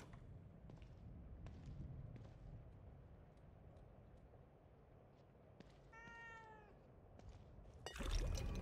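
A cat in The Evil Within 2 gives a single clear meow partway through, faint against quiet ambient game noise with scattered soft clicks, followed by a louder burst at the end.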